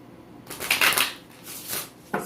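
Chakra cards are shuffled by hand in a few quick riffling bursts, close and crisp, with short pauses between them and a final brief flick.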